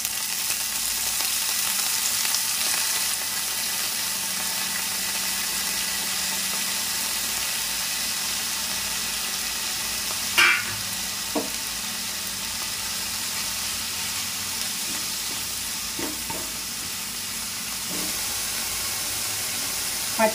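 Two bunches of fresh spinach fry in oil in a pan, producing a steady loud hiss of sizzling and steam, with only a few isolated stirring scrapes and knocks.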